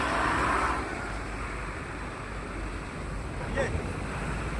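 Fast floodwater of the Beas river rushing in a steady broadband roar, heard from nearby with wind buffeting the microphone throughout and a brief louder swell near the end.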